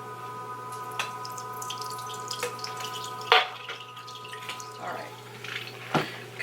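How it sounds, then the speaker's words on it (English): Juice draining from a 20-ounce can of crushed pineapple gives soft irregular drips and trickles under a steady hum, with a few sharper splashes and light clinks. "We need to drain 1 20-ounce can of crushed pineapples,"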